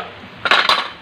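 A metal lid set onto a cooking pot of a nearly finished dish, giving two bright clanking contacts about a quarter second apart, close and clear with a short ringing tail and no talk.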